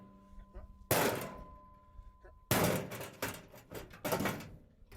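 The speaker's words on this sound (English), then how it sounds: "That got that door completely off there" Heavy metal door of a Harbor Freight gun locker being struck and knocked off, with two loud clanging thuds and rattling impacts, mixed with voices talking.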